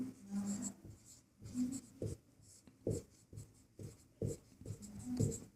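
Chalk or pen writing out a math solution, short scratchy strokes in irregular bursts separated by brief pauses, close and fairly quiet.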